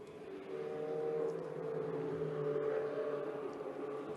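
A Ferrari Challenge race car at Circuit de Barcelona-Catalunya heard at a distance, its engine a steady, faint whine that holds and gently shifts in pitch without nearby talk.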